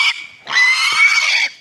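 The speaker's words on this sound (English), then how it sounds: "we've got one of the piglets. She's squealing pretty loud" A piglet being carried off its feet squeals loudly and close by: a short shrill cry, a brief pause, then a long sustained high-pitched squeal that tapers off at the end.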